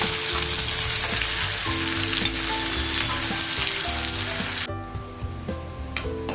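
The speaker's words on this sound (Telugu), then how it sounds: "ఇప్పుడు మీడియం సైజ్ వేసుకొని ఫ్రై చేసుకుందాం." Chopped onions frying in oil in a pan, a loud continuous sizzle with a low steady hum underneath, the hiss dropping away abruptly near the end.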